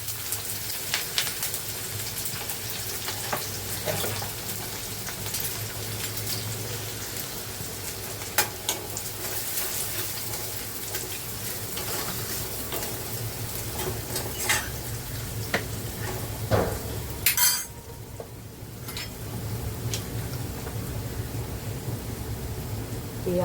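Chopped onion frying in hot oil with mustard seeds gives a constant, dense sizzle and spatter, with occasional sharper pops and clinks of a spoon against the pan, close and uninterrupted.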